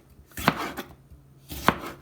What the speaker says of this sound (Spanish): Y lo voy a cortar así en rebanadas.